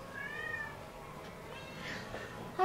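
A kitten meows softly a couple of times, thin, high and fairly faint, close by in a quiet room.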